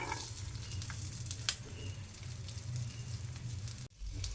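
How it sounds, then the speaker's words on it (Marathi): Chopped garlic fries in melted butter in a pan, giving a faint, steady sizzle with soft crackles and one brief clatter, quiet and continuous with no talking. "यामध्ये बारीक चॉप करून घेतलेलं लसूण टाकलेलं आहे। लसूण जास्तीचं टाकायचं आहे। लसूण असं थोडंसं फ्राय करून घ्यायचं आहे एक अर्धा मिनिटासाठी।"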